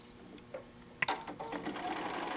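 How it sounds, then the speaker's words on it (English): A sewing machine stitches quilt pieces for a whale-pattern block, a steady mechanical run starting after a few faint taps and continuing close and clear to the end. "we're going to sew down our line"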